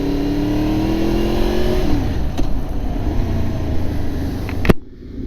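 A 2002 Honda VFR800 800cc motorcycle engine revs up and then drops in pitch, loud and close, with steady engine drone and wind noise before a sudden cut.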